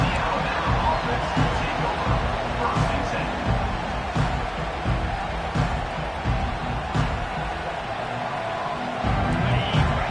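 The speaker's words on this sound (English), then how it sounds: "this crowd is fired up. Listen to this noise here" A loud college football stadium crowd at an Alabama game roars and cheers continuously, a dense wash of voices and noise filling the space.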